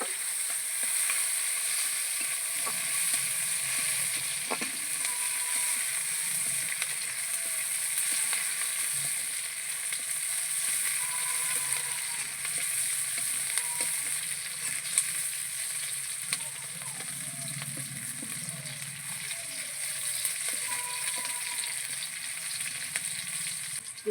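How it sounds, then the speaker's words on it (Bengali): Garlic, cumin, green chilli and chopped onion sizzle steadily in a hot pan, a continuous bright frying hiss with occasional soft stirring clatter, close and even throughout with no talking. "মশলাগুলো খুব ভালো করে ভাজা করে নেব।"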